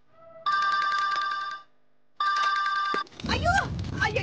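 A telephone rings indoors in two loud electronic bursts separated by a short pause. Excited voices and commotion follow right after.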